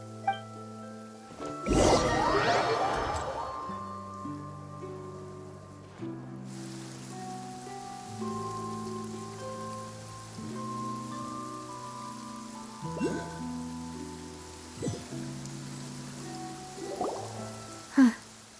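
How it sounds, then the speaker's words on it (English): Rain falling in the video game Genshin Impact, a soft steady patter running throughout beneath sustained game music, with a louder splashy burst near the start. "It's been raining non-stop for a few days now."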